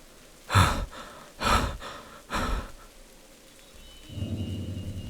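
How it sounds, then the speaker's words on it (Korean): Three heavy, rasping breaths close by, each a broad noisy burst about a second apart, then a low murmuring rumble rises near the end. "거친 숨소리가 바로 옆 귓가에서 들리는 겁니다."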